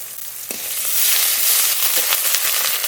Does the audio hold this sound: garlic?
yes